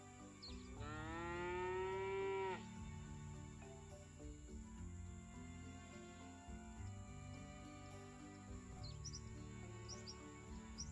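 A cow moos once in the video game Scott Whiskers: a long, loud, rising bellow lasting about two seconds near the start, followed by steady game music and a few faint chirps.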